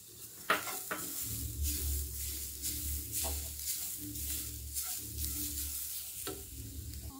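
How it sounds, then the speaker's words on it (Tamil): Grated beetroot and coconut sautéed in a pan, a soft continuous sizzle with repeated spatula scrapes and an occasional clink, plus a low steady hum from the stove, close and fairly quiet. "இதை வந்து இப்போ தேங்காய் துருவலில் வந்து 1-2 நிமிஷம் வதக்கினா போதுமானது"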